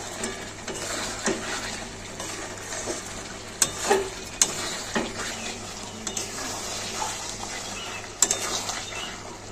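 Mutton kosha being stirred in a pan as the liquid cooks down, with a soft sizzle under repeated scraping and clinking of a spatula against the pot, a few sharper metallic knocks standing out.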